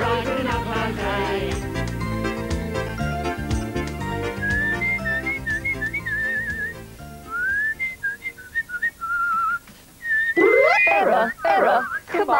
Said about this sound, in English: could you whistle a little more softly? It's putting me off